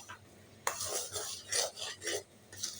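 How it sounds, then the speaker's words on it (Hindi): Semolina dry-roasting in a pan for suji halwa while a spoon stirs it, giving four or five distinct scraping sweeps with light metal clinks, close and unaccompanied by speech. "चम्मच लगातार चलानी है, इसको जलाना बिल्कुल भी नहीं है"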